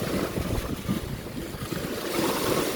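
Sea waves and a strong current at a Leyte beach, a steady rushing wash of surf with wind buffeting the microphone, no voices.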